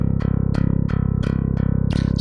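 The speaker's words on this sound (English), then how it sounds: "a very cool bass instrument that is this nuclear bass, and the DI sounds like this" A Dingwall nuclear bass played dry through a DI, programmed as a steady run of deep, evenly repeated notes with a percussive pluck attack on each new phrase, loud and alone.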